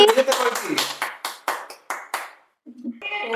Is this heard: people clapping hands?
yes